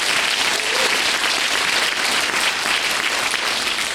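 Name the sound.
audience applause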